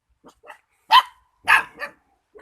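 A dog barks a few times in a rural Isan setting during a fish-shooting outing, short sharp woofs spaced unevenly, fairly close and clear with no talk over them.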